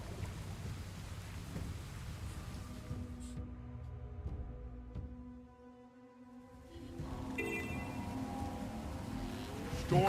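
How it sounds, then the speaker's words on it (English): A thunderstorm with rain in the video game Guild Wars 2: steady rain hiss with deep rumbling thunder rolls, a brief lull midway, then a renewed swell of rain and thunder, fairly quiet overall. "Storm's here."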